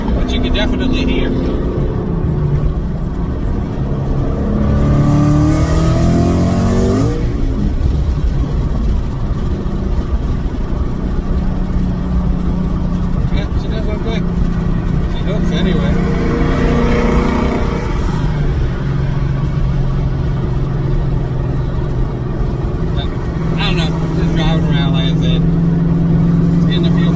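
Cars drive and rev their engines nearby, with engine roar swelling and fading over a steady rumble and people talking throughout.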